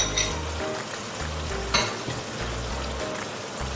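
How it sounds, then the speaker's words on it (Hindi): Eggplant frying in a pan with ground roasted spices, a steady close sizzle with the occasional stir and a scrape of a utensil, heard on its own with no talking. "अब हमें इन सब चीज़ों को बहुत अच्छे से भूनना है मसालों के साथ"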